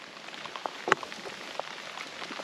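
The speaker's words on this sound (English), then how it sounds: "Sorry about the rain and stuff on the lens." Light rain patters outdoors on a farm at Biggleswick, a soft, faint, steady hiss broken by a few sharper drops close to the microphone, with no talking.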